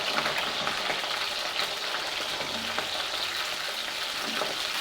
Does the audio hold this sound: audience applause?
no